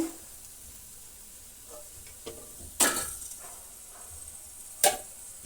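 Gobi manchurian, cauliflower pieces, frying in hot oil, giving a quiet steady sizzle with two sharp louder bursts as more pieces drop into the pan.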